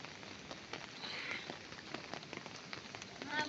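Steady rain patters on a surface at a village fair, a soft continuous hiss with scattered drops, fairly faint, with a brief voice-like sound near the end.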